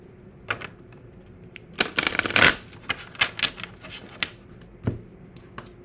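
Tarot cards being shuffled by hand, a series of quick crisp riffling bursts and soft taps, close and alone.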